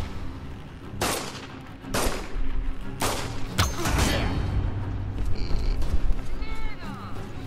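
Gunfire in the Tomb Raider video game: several loud broadband shots at roughly one-second intervals, with a sharp crack near the middle, over a steady game background, followed by ringing metallic tones.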